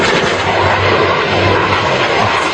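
A loud, steady roar of airplane engines passes overhead, a dense rushing drone that fills the whole moment.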